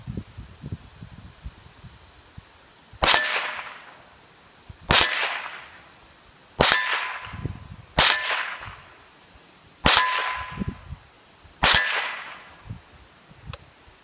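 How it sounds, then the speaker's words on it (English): A Henry AR-7 .22 LR rifle fires frangible rounds at steel targets on an outdoor hard target range: six sharp, evenly spaced shots, each with a bright metallic ring, with quiet rustling between them. "We're going to try it out with this frangible ammunition here, which may or may not work, at the hard target range"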